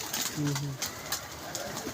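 A Ferozpuri cross pigeon gives a brief, low coo early on, close by and partly under a voice, with background noise throughout.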